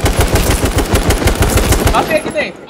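Rapid bursts of video game automatic gunfire crackle continuously and loudly, a dense stream of shots that tapers off at the end.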